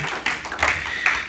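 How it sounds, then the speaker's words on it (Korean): A church congregation claps in welcome during a Sunday worship service, a scattered, fairly close run of applause with a few sharper bursts. "우리 박수로 환영하겠습니다"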